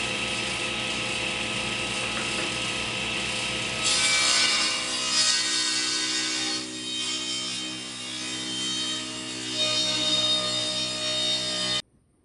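A saw rips wooden boards lengthwise into stock for nightstand legs, a loud continuous close-up sawing roar with grinding, rubbing texture that surges slightly midway, then cuts off abruptly near the end.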